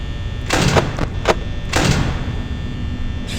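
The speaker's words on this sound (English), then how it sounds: "I just closed the door" The office door in Five Nights at Freddy's closes with a few quick mechanical thuds and clanks in a burst of about a second and a half, loud and near over a steady background hum.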